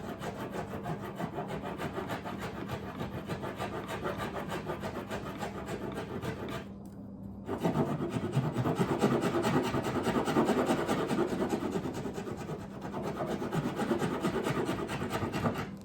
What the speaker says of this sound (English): Much better to use the files to begin with because it takes off a lot more material much more quickly